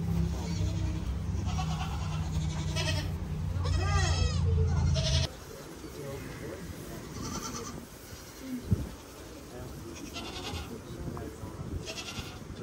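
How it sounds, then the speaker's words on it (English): Goats bleat in a farm pen, a few wavering, quavering calls standing out near the middle over a steady hum, with people talking nearby. "let's do the goats first"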